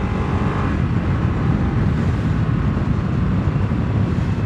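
A 2023 Harley-Davidson Nightster motorcycle engine held at high RPM while riding, a loud, continuous dense roar with wind rush and no pauses.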